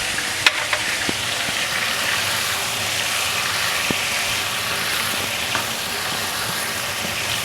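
Food frying in a pan over a high flame, a loud, steady sizzle with occasional sharp clicks and stirring knocks, alone without talk.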